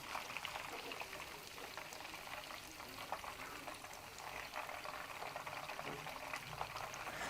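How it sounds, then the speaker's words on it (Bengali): Chicken pieces sizzle and crackle steadily in hot oil for a crispy fried chicken recipe, a dense, even frying hiss with no talk. "একইভাবে পরবর্তী ব্যাচে আমি বাকি চিকেনের টুকরোগুলো ভেজে নিব।"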